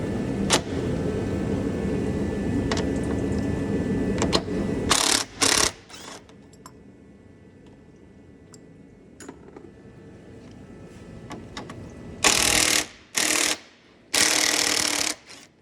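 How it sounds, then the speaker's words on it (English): Hand tool loosening radiator bolts on a 2008-2014 Subaru Impreza 2.5L, heard as a steady mechanical rattle that gives way to quieter scraping, then several loud, sharp bursts near the end. "So to remove these bolts, we're gonna use a number"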